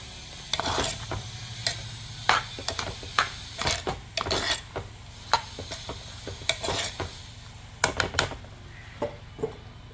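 A spoon stirs pineapple kichadi in a pan over a steady low sizzle, with a dozen or more sharp, irregular scrapes and clinks against the metal. The stirring is close and fairly loud, and no one speaks.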